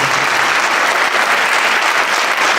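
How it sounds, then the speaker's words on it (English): Steady applause from an audience at a New York City Council member's inauguration ceremony, dense and continuous clapping close and loud throughout with no speech over it. "So let's give him an applause so he can do it."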